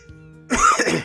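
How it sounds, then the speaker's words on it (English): A man on a podcast clears his throat once, a short rough burst of coughing noise close to the microphone that follows a moment of quiet. "Clear my throat."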